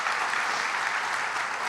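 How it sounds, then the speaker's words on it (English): Steady, dense applause from an audience at a veterinary white coat ceremony, a continuous wash of clapping holding even for a couple of seconds with no voices on top. "So a round of applause for Rudder"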